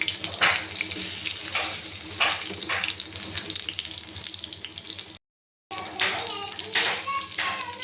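Continuous hiss of stuffed pointed gourds frying in hot oil in a wok, close by, with a brief cut to silence near the end before the sizzling resumes.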